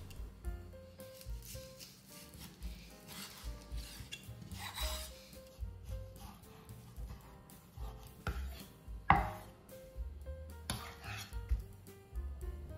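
Knife slicing skinned pork belly into thick pieces on a board, a series of soft rasping, rubbing cuts at an irregular rhythm, close and quiet, no talk.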